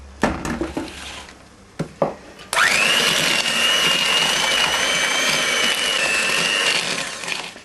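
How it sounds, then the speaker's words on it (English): Electric mixer whisking egg yolks and lemon juice for a lemon bombe, starting abruptly after a few clinks and then running steadily with a loud high whine until the end, close by. "So you really do need one of those electric mixers if you're serious about cake making."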